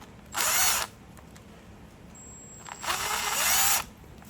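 Parts of a RedMax TRZ230S string trimmer are screwed together with a power driver in two short bursts, each a loud whirring spin of about half a second to a second, separated by quiet handling noise.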